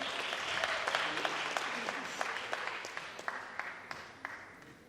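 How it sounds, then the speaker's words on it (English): A conference audience at a sponsor launch in the State Library of Victoria applauds a raffle prize winner, a soft, steady patter of many hands that carries evenly through the moment, fairly distant, with faint voices mixed in. "Round of applause,"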